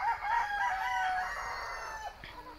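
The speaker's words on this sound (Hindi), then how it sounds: "इसमें 10-20 मुर्गा छोड़े हैं मुर्गियों में" On a free-range desi poultry farm with Sonali chickens, roosters kept among the hens let out one long, close crow, with faint clucking after it as it fades.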